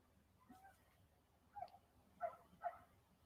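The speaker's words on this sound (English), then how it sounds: "I hear a dog barking" A dog barks faintly in the distance, a few short barks spaced over a couple of seconds against a quiet background.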